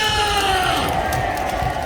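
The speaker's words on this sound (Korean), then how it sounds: "할렐루야 영광의 박수 올리겠습니다." A church congregation gathered at Gwanghwamun gives loud, continuous applause mixed with crowd cheering, a dense and even wash of clapping throughout.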